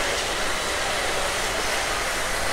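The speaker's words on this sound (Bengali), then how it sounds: "আর এই হচ্ছে সকালবেলা কমলাপুর স্টেশনের চিত্র" Train noise on a platform at Kamalapur railway station in Dhaka in the morning, a steady, loud broadband rumble and hiss filling the whole stretch with no clear breaks or voices.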